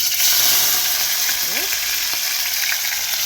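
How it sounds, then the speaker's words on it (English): Seasoning frying in hot oil in a pan, a steady close hiss and sizzle filling the whole stretch, with a faint brief voice-like sweep partway through. "It's really hot. Just gonna let these fry."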